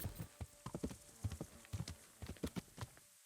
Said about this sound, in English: And we have a horse.